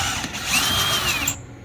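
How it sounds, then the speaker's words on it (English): A cordless power drill fitted with a 1/2-inch socket runs at low speed on a motor nut in a cooling unit, giving a steady close whir with a rising and falling tone that cuts off near the end. "using my 1/2-inch socket and my drill"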